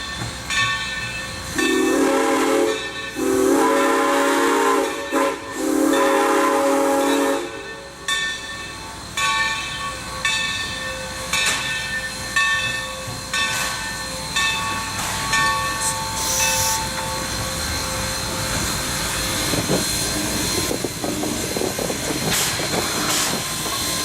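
A diesel locomotive idles with steady rumble and hissing, then rail cars clank and squeal as it slowly runs around its train nearby; no talking.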